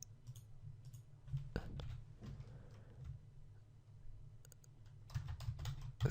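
Fingers typing code on a computer keyboard, quiet, close clicking keystrokes in short bursts separated by pauses, with a few louder key presses toward the end.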